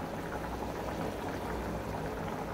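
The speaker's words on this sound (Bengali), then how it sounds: "ঝোল ফুটে গেছে।" Broth of a pangas fish curry with taro bubbling in a pot, a steady, dense low simmering gurgle that fills the whole short stretch at an even level with no talk.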